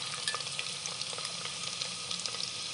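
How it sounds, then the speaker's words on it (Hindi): Onions added to kaleji (liver) frying in a pan with spices, giving a steady close sizzle and crackle with small stirring pops and no voice. "और अब इसमें हम प्याज डाल देंगे।"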